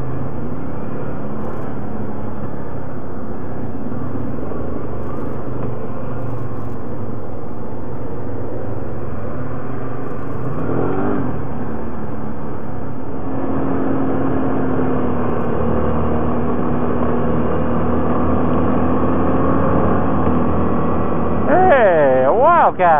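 A Wildcat side-by-side engine drones steadily as it creeps along a tight, brushy trail, with a continuous whirring hum, a brief brush scrape midway and a voice near the end.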